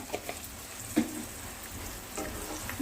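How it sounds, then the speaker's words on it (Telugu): Bitter gourd fry with chillies and turmeric being stirred in a pan, soft sizzling under a few scraping spoon strokes, quiet and close with no talking. "ఇది వేసిన తర్వాత ఇదంతా కూడా ఒకసారి బాగా కలుపుకోవాలి ఇలా"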